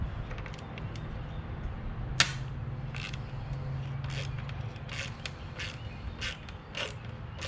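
The plastic intake manifold runner control actuator is pried off a 2016 Ford F-150 engine after its T20 Torx screws are removed, giving a series of sharp close creaks and brittle cracking snaps at irregular intervals over a low background hum.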